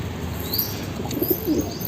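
A caught white pigeon with a black beak gives a few soft, close coos and chirps, alongside faint wing rustling and a thin steady background hiss.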